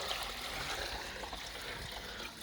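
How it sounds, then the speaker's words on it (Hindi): A steady trickle of water runs as a buffalo drinks, a soft continuous pouring and splashing sound heard close up without speech. "अब हम पिला रहे अपनी भैंस को पानी।"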